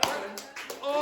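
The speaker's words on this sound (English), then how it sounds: "Again, arrogant claps." Brief scattered handclaps from a small group in a classroom during a team game, a few quick claps over about a second, with faint voices around them.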